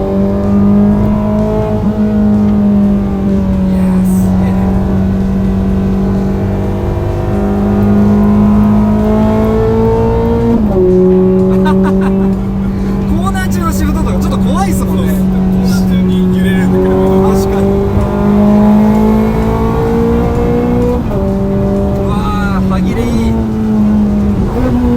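A Ferrari 430 Scuderia, a lightweight limited model with little sound insulation, revs loudly from inside the cabin, its engine pitch climbing and dropping sharply as it shifts through the gears, with occasional speech over the engine.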